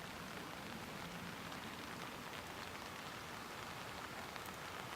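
Rain falls in the garden of the Imperial Palace in Japan, a soft, even patter-hiss that continues steadily with no talking.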